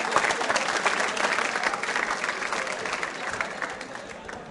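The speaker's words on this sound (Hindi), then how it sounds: "जोरदार तालियां कविता जी के लिए" A school audience at a quiz show gives a contestant lively applause, many hands clapping loudly and continuously, tapering slightly toward the end.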